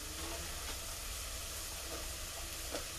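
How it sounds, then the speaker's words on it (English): Flour being stirred into a hot pan for a creamy scalloped potato sauce, a soft steady sizzle and scraping with faint clicks of the utensil, continuous and close, no voices. "now we're going to add our all-purpose flour. And we're going to stir that in"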